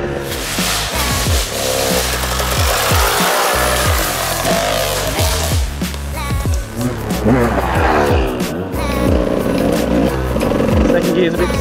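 A dirt bike rips around a private motocross track, its engine revving hard and close with rapid rises and drops through gear shifts, loud and continuous throughout.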